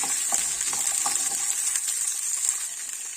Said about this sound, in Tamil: இப்போ இதோட வந்து இந்த பூண்டு பல் ஏழு பூண்டு பல் நம்ம அதையும் இது சேர்த்துக்கலாம் இதையும் நல்லா வதக்கலாம்